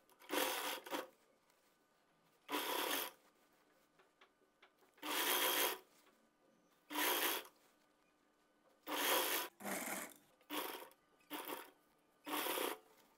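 A sewing machine stitches the waistband casing of an organza lehenga in short bursts of rapid whirring, each lasting about a second, separated by quiet pauses.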